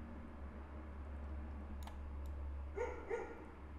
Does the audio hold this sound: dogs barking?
yes